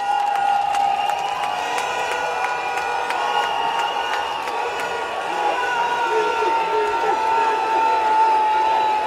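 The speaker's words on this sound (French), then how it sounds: "Il faut applaudir pour lui." An outdoor political rally crowd in Figayo, Côte d'Ivoire cheers, whoops and claps in a steady, moderately distant roar, with a voice speaking over the crowd.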